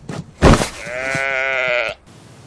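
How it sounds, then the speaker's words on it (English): A sheep bleats once, loud and close, a long wavering baa that holds for over a second after a brief rustle and a sharp knock just before it. "You haven't shorn your sheep in weeks."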